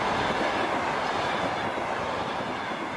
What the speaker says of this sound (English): Now the train is rolling through the sparsely vegetated desert of Kizilqum in southern Uzbekistan.